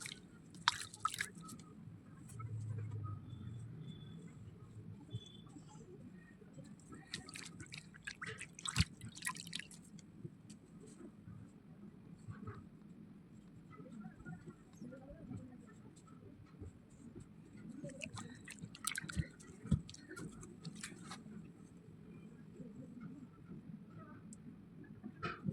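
Water splashes and drips as a dried face pack is washed off the face, soft intermittent splashing in bursts over a quiet background.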